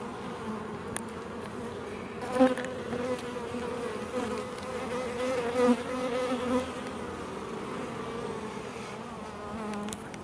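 Honey bees buzzing around an open hive during a colony inspection, a steady close drone with individual insects swelling louder as they pass near, no voices.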